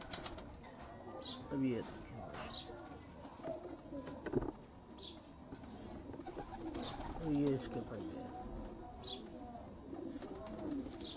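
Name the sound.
Heera Lal pigeons cooing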